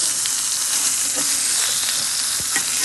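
A birria taco topped with onions and cheese sizzles loudly on a hot griddle as a spatula flips it, a dense continuous crackle and hiss close up, with a few scrapes over it.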